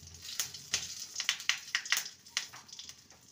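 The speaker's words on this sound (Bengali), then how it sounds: "ফোড়নটাকে কয়েক সেকেন্ড ভেজে নেব।" A bay leaf and dried red chilli tempering frying in hot oil, giving a quiet close-up sizzle with irregular crackling pops that come every fraction of a second.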